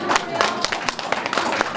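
A short burst of clapping from a small group, scattered claps in a quick uneven rhythm, fairly close.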